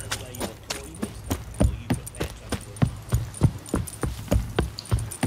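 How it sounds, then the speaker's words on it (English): A horse ridden by Geralt in the video game The Witcher 3 clip-clops along at a steady walking rhythm, each hoof strike crisp and close, with no talking. "I'll just ride my horse over there."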